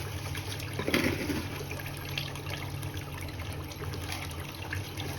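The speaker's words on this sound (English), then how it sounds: "you can see that the gold box just spinning down there" Water rushing and trickling through a spinning gold box extractor used for gold prospecting, a continuous splashing flow with a steady low mechanical hum beneath and a brief louder splash near the start.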